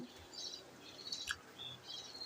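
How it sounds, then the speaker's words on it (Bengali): Faint, high-pitched chirps from budgerigar chicks come in short scattered bursts, quiet and thin against a low background hum. "আজ শুধু বাচ্চার আওয়াজ এই জায়গায় ঢুকলে"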